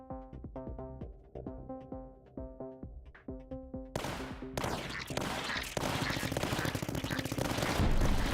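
Gunner towers fire in the strategy game Tower Dominion, a rapid rhythmic string of close shots that builds into dense, continuous, louder automatic gunfire and heavier blasts.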